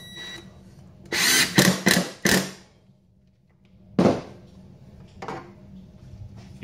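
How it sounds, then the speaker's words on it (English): A homeowner-grade impact drill fires in several short loud bursts, then pauses, followed by a couple more brief bursts, close by with no talking. "Do it with a lower brand homeowner grade impact"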